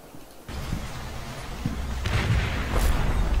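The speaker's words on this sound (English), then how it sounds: "let's see if we can escape this mortar barrage" Mortar barrage in the WWII video game Combat Mission Fortress Italy, set around San Pietro: a sudden burst of deep, rumbling explosions that keeps booming and swelling, with several heavy blasts close together near the end.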